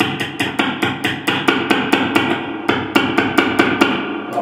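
A screwdriver taps repeatedly on the pickup of a 1960s Burns Vista Sonic bass guitar, about eighteen sharp, evenly spaced metallic knocks, loud and close with no talk.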